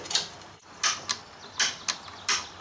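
Sharp, snappy clicks from a small piezoelectric igniter being tested on a restored Coleman RoadTrip portable propane grill, about six quick ticks in an uneven rhythm, close and fairly quiet with no talk.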